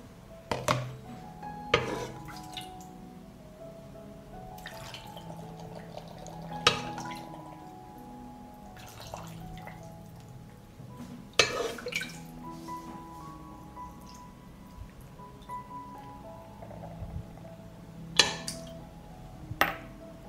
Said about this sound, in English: I will fill the jars with marinade.